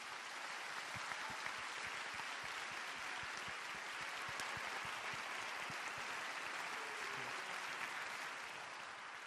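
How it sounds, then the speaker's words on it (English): An audience gives a round of applause for a group on stage, a dense, even wash of many hands clapping that holds steady for the whole stretch at moderate distance. "give one more round of applause to the whole group that's up here"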